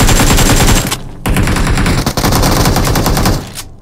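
Loud bursts of rapid automatic gunfire in PUBG Mobile, one sustained volley cutting off briefly before a second long burst of close shots that ends abruptly.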